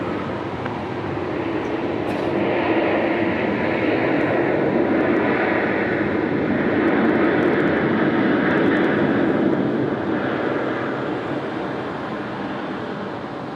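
An airliner roars on takeoff at Sydney Airport at night in heavy rain, a broad sustained engine rumble swelling and fading slowly against the rain's hiss.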